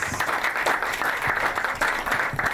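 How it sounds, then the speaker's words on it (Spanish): Steady audience applause at a human rights book fair, dense and continuous clapping from a room full of people with a few louder individual claps standing out. "un aplauso para él"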